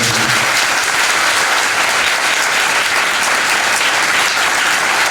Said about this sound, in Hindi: पहले तो जोरदार तालियां बजाऊंगा।